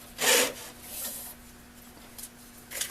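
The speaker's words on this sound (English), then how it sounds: "I can smooth it up a lot easier with the sandpaper than I can trying to go in there with a tool" Sandpaper rubbing over a wooden muddler on a lathe, one strong rasping stroke followed by fainter scratchy passes over a steady low motor hum.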